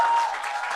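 Audience applause before a lecture, a brief burst of dense clapping from a crowd that stays steady throughout.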